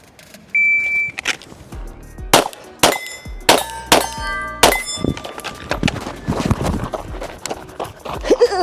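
Rounds from an MP5 clone ring off steel targets in a series of sharp metallic clangs with lingering ringing tones, spaced about half a second to a second apart, with shot reports and muffled outdoor noise around them.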